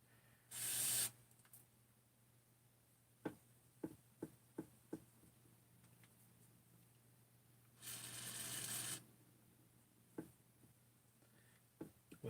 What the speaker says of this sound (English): A brake cleaner, cleaning out here.